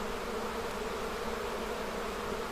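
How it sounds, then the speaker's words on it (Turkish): Agitated bees swarm in the Taurus mountains at about 1200 metres, a dense, unbroken buzzing drone that stays steady and close throughout with no voices. "şu an arılar görüyorsunuz telaş halinde kıvrantıda sokuyor insanları"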